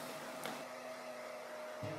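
A hair dryer blows steadily on a freshly washed kitten, a continuous close whir with a constant tone and a brief shift in pitch near the end.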